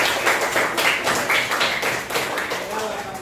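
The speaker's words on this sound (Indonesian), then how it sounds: "Beri tepuk tangan." Classroom applause rings out as a quick patter of claps from several people, moderately close, blended with voices talking over it.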